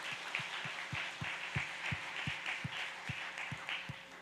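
A church congregation claps together in a steady unison rhythm, about a dozen muffled, thumping beats evenly spaced and heard from a distance.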